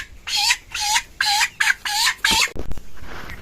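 Black chickens being caught let out a rapid series of about six loud, close distressed squawks and clucks in quick bursts, followed by a couple of knocking thumps and a quieter rustle.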